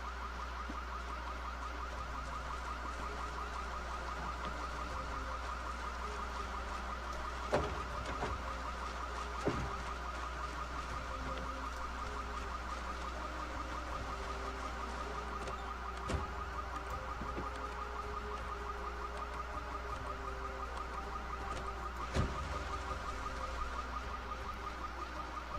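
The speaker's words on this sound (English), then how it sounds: "another car in the parking lot had an alarm" A car alarm blares continuously in a parking lot in the zombie survival game Project Zomboid, a steady repeating electronic tone with a few faint clicks and bumps over it.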